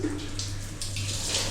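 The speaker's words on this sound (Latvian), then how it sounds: "Mans vīrs ir dušā." A shower runs in a guesthouse bathroom in Vang Vieng, Laos, giving a steady broadband hiss of spraying water, close and continuous, with a low hum underneath and no talking.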